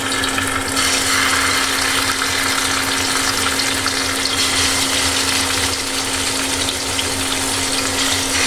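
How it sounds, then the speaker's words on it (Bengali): Fish fried slowly in a small amount of oil gives a steady, loud, dense sizzle with constant crackling spatter that holds evenly throughout, close by and with no talking. "ভাজতে দিয়ে দিয়েছি, আস্তে আস্তে ভাজা হোক।"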